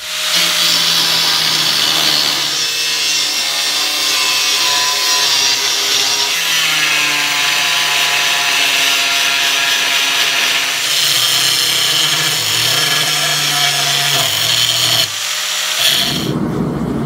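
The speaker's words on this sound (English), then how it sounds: "So I'm just going to go through with a disc cutter, get this thing cut out as best I can." A disc cutter grinds through a steel sawmill blade with a loud, continuous high-pitched screech whose pitch shifts as the cut goes on, then stops near the end.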